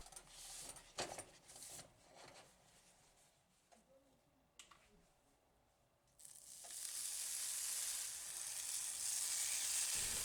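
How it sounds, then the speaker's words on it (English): Bacon sizzles in a BS&R cast iron pan, starting with scattered pops and clicks, then swelling into a steady, hissing fry that fills the last few seconds. "And that's all we need to cook some bacon"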